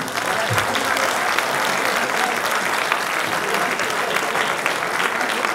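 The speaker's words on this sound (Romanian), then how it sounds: "Aplauze" An audience at a high school centenary celebration in Buftea bursts into dense, steady applause that fills the whole stretch, loud and close with no pause.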